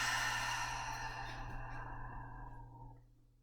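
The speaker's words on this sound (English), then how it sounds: "give yourself another deep breath and an open mouth exhale" A slow, deep breath ends in an open-mouthed exhale, a soft airy rush that fades steadily over about three seconds to silence, heard close and alone.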